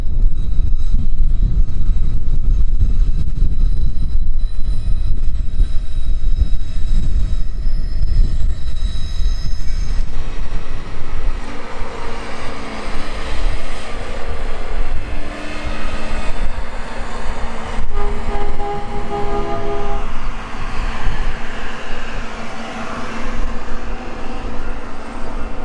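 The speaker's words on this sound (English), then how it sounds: "it looks like there's some maintenance of way equipment coming through on the Norfolk Southern line" Norfolk Southern maintenance-of-way equipment rolling along a rail line, a loud continuous rumble and clatter of wheels on track with rising squeal and metallic tones as it passes, no voices.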